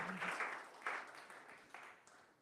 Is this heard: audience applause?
yes